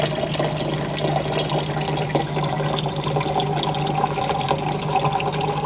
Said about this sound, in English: How's the sound of my water dispenser for ASMR?